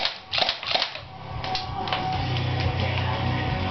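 Cyma airsoft Desert Eagle pistol fired at close range into a foot, a couple of quick sharp clicky pops followed by a steady low background hum.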